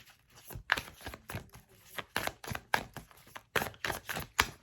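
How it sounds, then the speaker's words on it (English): Tarot cards are shuffled by hand in a steady run of soft, papery riffles and slides, close and fairly quiet, with no talking. "And for the 5th card, I'm going to shuffle."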